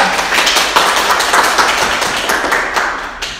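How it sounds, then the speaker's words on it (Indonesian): A classroom audience applauds at the close of a junior high microteaching lesson, with dense, steady clapping that holds at close range throughout, without a break or any talk. "tepuk tangan untuk dia"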